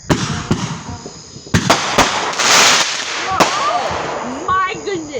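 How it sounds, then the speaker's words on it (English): Fourth of July fireworks and firecrackers go off close by in sharp, loud cracks and pops, several bursts in a few seconds with crackling between, while voices react faintly near the end. "Some fireworks"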